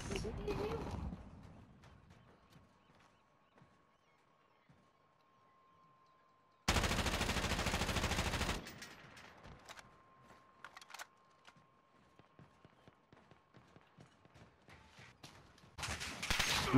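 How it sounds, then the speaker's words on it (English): Gunfire in Call of Duty: Modern Warfare Rebirth, with sharp bursts of shots, a loud sustained volley in the middle and scattered rapid pops afterward, while players talk over a team channel. "Who's shooting at us?"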